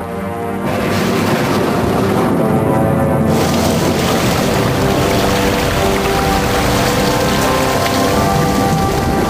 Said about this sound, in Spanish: Cuando se saturó la atmósfera, comenzó a llover.